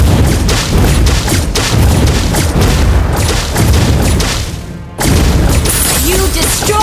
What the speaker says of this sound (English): You destroy the turret.